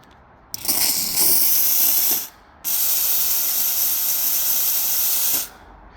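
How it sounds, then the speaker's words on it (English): A McCulloch MC1385 Deluxe canister steam cleaner for vehicle detailing sprays high-pressure steam in two long, loud, hissing bursts separated by a brief pause, close up with no talking. "steam, high pressure steam"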